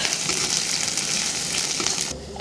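Chopped onion sizzles and spits loudly in hot oil in a pan, a steady dense frying hiss that runs without talk before dropping off abruptly near the end.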